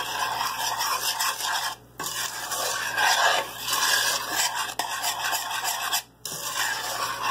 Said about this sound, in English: You want to stir it in quickly before it has the chance to scramble.